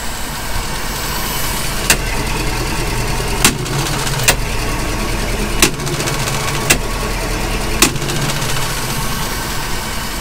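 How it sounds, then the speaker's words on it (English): A Four Winns Horizon boat engine idles close by in the engine compartment, a continuous low rumble with a few sharp clicks scattered through it. "the motor is obviously running"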